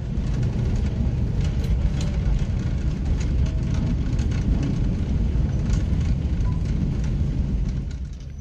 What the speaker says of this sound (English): Our train then continues very slowly to pass through the big railway yard around here.